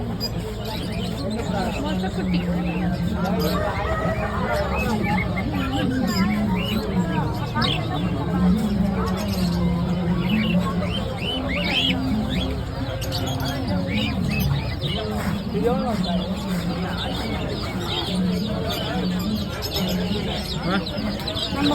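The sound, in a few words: pigeons at a market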